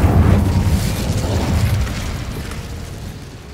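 A fiery Incendio spell goes off in Hogwarts Legacy, a single loud, low boom at the start that decays into a rumbling roar over a few seconds.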